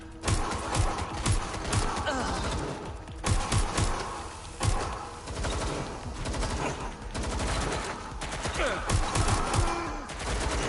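Blaster-style gunfire and an explosion from a Star Wars role-playing video game: dense, rapid volleys of shots with heavy bursts that swell and fade repeatedly across a busy, continuous battle soundscape.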